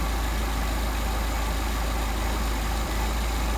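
A Mercedes 190SL engine with a Solex 44PHH carburetor idles steadily and close by, a constant loud low rumble with no talk over it during idle mixture adjustment.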